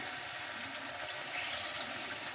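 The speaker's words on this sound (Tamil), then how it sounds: "கொஞ்சமாக புளி கரைச்சி ஊற்றிக்கலாம்" Dissolved tamarind water pours into a white cowpea curry, a short, quiet, steady splashing rush of liquid with no other sound over it.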